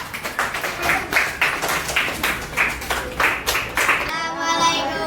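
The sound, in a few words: children clapping, applause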